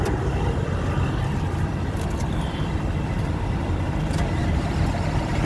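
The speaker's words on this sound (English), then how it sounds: "So let's start the engine first and see" A Cummins ISX diesel truck engine idles close by, a dense, loud rumbling drone that stays steady throughout with a few faint clanks, and no talking.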